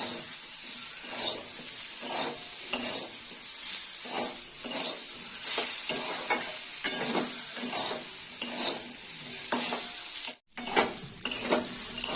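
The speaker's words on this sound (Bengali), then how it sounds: "হলুদটা একটু তেলের মধ্যে ভাজা হোক।" Turmeric powder and salt sizzle in hot oil with potato and brinjal pieces in a pan, a steady frying hiss broken by repeated stirring scrapes and soft utensil knocks, with no talk.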